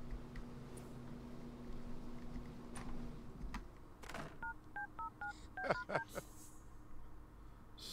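A phone is dialed in The Sims 3: a string of short keypad beeps in uneven rhythm after some soft clicks, fairly quiet and close, over faint background ambience.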